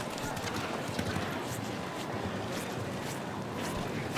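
Horse hooves clip-clop steadily across an outdoor show jumping course at an international event, fairly faint under broad crowd and wind noise, with a voice talking over them.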